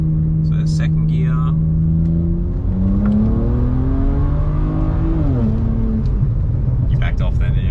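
Drag-tuned street car with an open differential accelerating hard, engine note climbing then dropping sharply at a shift into second gear and rising again, loud and close from inside the cabin, with voices faintly over it.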